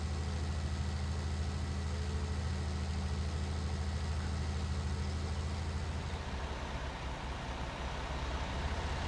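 A Fendt tractor engine idles steadily in Farming Simulator 19, a continuous low rumble that holds throughout and eases slightly near the end.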